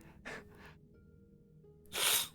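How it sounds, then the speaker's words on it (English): A person sneezes, with a couple of quick sharp breaths first and then one louder, abrupt burst at the end, heard close and alone in an otherwise quiet moment. "I'm getting roasted so much that I'm sneezing"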